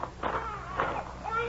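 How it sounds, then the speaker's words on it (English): Inside a trailer, a baby cries in several short, wavering bursts, faint and muffled against a low background hum. "You could hear a baby crying"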